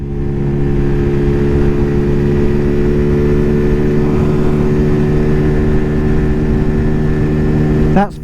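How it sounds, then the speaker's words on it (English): At full throttle up a hill, a Zontes ZT125-U1 125cc motorcycle holds a loud, close, unwavering engine drone for several seconds, ending with a brief rising whine before the sound drops away. "That's flat out going up a hill."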